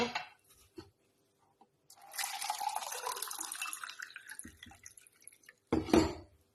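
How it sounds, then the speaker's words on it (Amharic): Water poured from a small glass into a cooking pot, prepared for making karam karamila: a splashing, trickling pour runs for about four seconds, followed by a brief clink near the end. "ውሃዬን አደርጋለሁ፣ አንድ ብርጭቆ"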